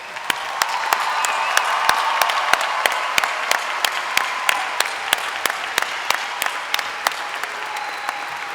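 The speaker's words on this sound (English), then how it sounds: "Everyone, please join me in giving these newest alumni another round of applause." A commencement crowd applauds the newest alumni with steady, sustained clapping, dense and fairly close, with sharper individual claps standing out throughout and no talk over it.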